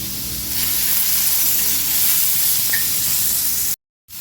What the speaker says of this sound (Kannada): ಇವನ್ನ ಮೆತ್ತಗಾಗೋವರೆಗೂ ಸ್ವಲ್ಪ ಆಯಿಲ್ ಹಾಕ್ಕೊಂಡು ಹುರ್ಕೋಬೇಕು.